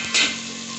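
Freshly chopped onions meet hot oil with cumin, producing a sudden loud sizzle burst that settles into a steady crackling fry, close and without speech.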